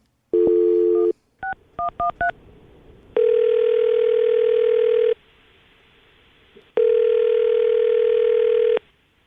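Touch-tone telephone keypad dialing: a steady tone, then a quick run of short DTMF beeps, followed by two long ringback tones separated by a pause, clear and close with no talking.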